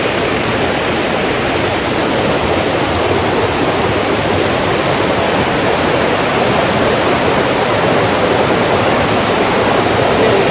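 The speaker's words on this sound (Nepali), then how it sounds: "पुरा पानीको साउन्ड पुरा हेभी छ" Heavy water rushes loud and constant on a mountain trek, an unbroken roar of torrent with no breaks or voices throughout.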